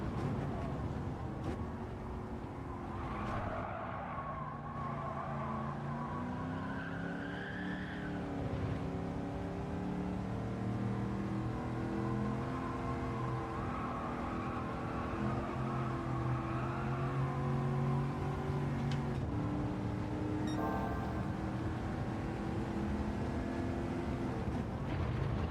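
A race car engine in Gran Turismo 7 holds a steady, high-pitched drone near the rev limiter, with its tone rising and falling between gear changes and no voices over it.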